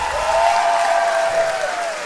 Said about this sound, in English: Queen Adole, GMB 2008, a round of applause.